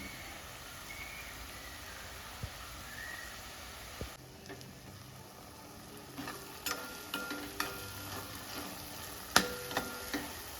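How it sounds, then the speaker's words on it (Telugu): Mango paste and sesame paste fry in a pan with a faint, steady sizzle, while a spoon scrapes and taps against the metal in scattered clicks that grow busier toward the end, heard up close with no voices. "మామిడికాయ పేస్ట్ చేసుకున్నాం కదా అది ఈ నువ్వుల ముద్ద రెండు బాగా ఏగుతున్నాయండి"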